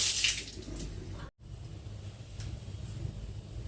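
A steady rush of running tap water, fairly faint, with a brief silent break partway through.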